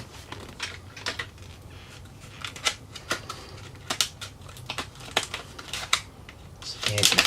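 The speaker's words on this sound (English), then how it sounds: "I need some scissors for this stuff." Scissors snip through the anti-theft plastic packaging around computer memory, making a series of sharp, irregular clicks and cuts up close, with crinkling plastic building up toward the end.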